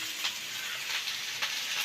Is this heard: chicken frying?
yes